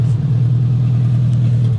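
An Opel fitted with headers and a glasspack exhaust holds a loud, close, deep rumbling drone with a steady throb, with no talk over it.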